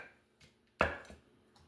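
Knife slicing through a slice of cheese, cutting it in half: one crisp, close thunk against the cutting surface after a near-silent lead-in.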